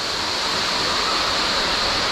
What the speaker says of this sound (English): there's like a small little waterfall, little spring, off over onto the side